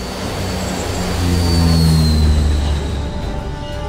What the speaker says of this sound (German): Danach mit einer 26 Tonnen schweren C-2A Greyhound-Maschine.